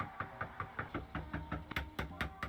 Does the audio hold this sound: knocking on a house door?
yes